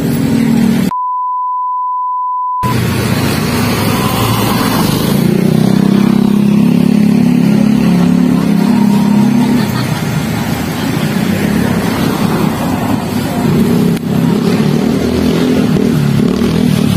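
A motorcycle passes along a street in Malabon, its engine noise rising and lingering close by, with a voice speaking faintly and an electronic beep at the start.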